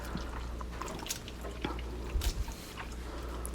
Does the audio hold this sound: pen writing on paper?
no